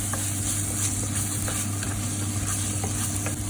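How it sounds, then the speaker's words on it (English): Masala with kokum sautés in oil in a pan, a loud continuous sizzle broken by scattered scraping stir strokes, with no voices over it. "Saute the masala for good 1 minute."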